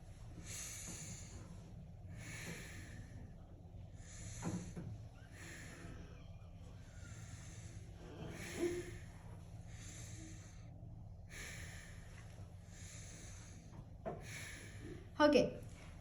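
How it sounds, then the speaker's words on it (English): A patient takes slow, deep breaths during a lung exam, each soft hiss of air heard up close in a quiet room, repeated several times at an even pace, with a faint sharper snort-like breath near the end. "Can you do deep breaths for me?"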